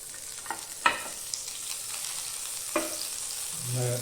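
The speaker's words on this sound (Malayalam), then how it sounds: "അപ്പോൾ നമ്മൾ ഇനി മീൻ പൊരിക്കാൻ പോവാണ്. ബട്ടറിലാണ് പൊരിക്കുന്നത്." Fish frying in melted butter in a pan, a steady close sizzle with a few sharp crackles and pops, and a low hum rising at the end.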